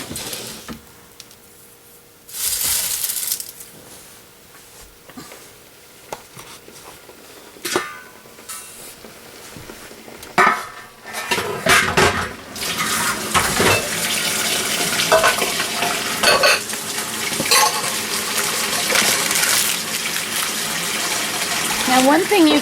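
Pasta and hot water are stirred in a pan for homemade Hamburger Helper, with intermittent sloshing, gushing water and scraping, growing louder and continuous in the second half.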